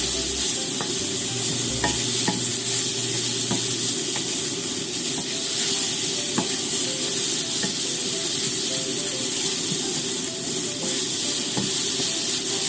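Onions sizzle steadily in a pan over medium heat, a constant close frying hiss with faint occasional stirring clicks.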